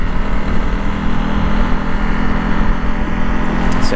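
A Honda CRF300L Rally motorcycle engine revs hard in third gear on twisty roads, a loud, steady, rough drone that holds without a break.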